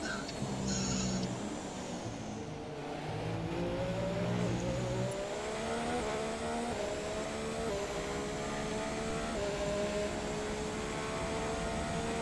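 Formula One car engine in the F1 2017 racing game, heard from the cockpit camera: a continuous high-pitched engine whine with tones rising and shifting as the revs climb and gears change, loud and steady throughout with no voices.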